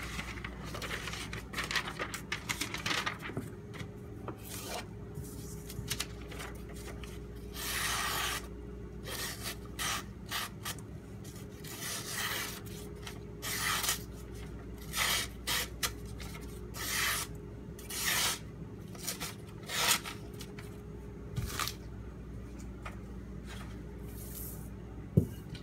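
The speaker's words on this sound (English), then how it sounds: "my DLT strop with white compound" A Kershaw Oso Sweet knife blade is drawn repeatedly across a DLT strop loaded with white compound, giving soft rhythmic rubbing swipes, close and quiet, with no talking.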